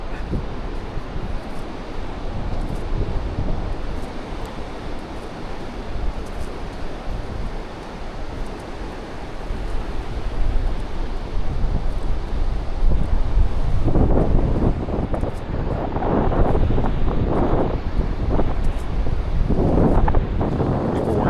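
Strong cold gusts on Oceanside Beach in Tillamook, Oregon buffet the microphone in a steady roar, growing rougher and louder toward the end, with surf rumble underneath.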